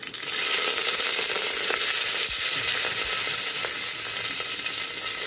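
Steady, loud sizzling of curry leaves frying in hot oil with mustard seeds, urad dal and cumin, with a few faint clinks over the continuous hiss.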